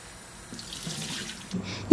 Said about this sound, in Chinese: 泡好了木耳将它清洗干净